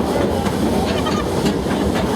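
Zoo railroad train running on its tracks at the Omaha Zoo, a steady close rumble with faint rhythmic clicks and hiss throughout.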